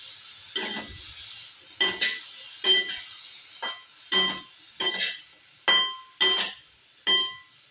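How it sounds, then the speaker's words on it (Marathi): Shredded cabbage stirred and fried in a pan for a paneer momo filling: a spoon clinks against the pan in about ten evenly spaced strokes, each followed by a soft sizzle, close and clear. "आता आपल्याला ही पत्तागोबी यात टाकायची आहे। परत एकदा छान हलवून घ्यायचं आहे।"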